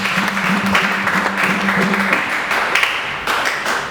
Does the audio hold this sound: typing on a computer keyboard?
no